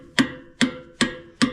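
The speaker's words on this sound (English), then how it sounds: "A good big punch, a decent hammer" A hammer strikes a metal punch four times in an even rhythm, each blow a sharp ringing clank that decays quickly, close and clear.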